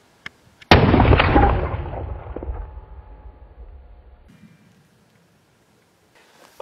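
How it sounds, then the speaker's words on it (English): A homemade blunderbuss loaded with number 4 buckshot fires once, a single loud blast that booms and echoes away over several seconds outdoors, with no talk. "that time I loaded it up with number 4 buckshot"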